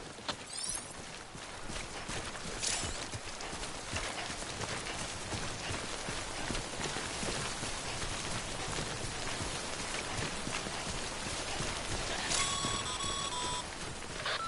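Steady timefall rain in the video game Death Stranding, a dense, even hiss of falling drops that continues throughout, with a brief electronic chime near the end.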